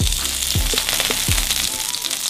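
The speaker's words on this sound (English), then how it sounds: "You're going to get a little sizzle. You're going to get a little pop." Loud, steady sizzling of vegetables frying on a hot griddle, with a few low thumps and crackling pops throughout.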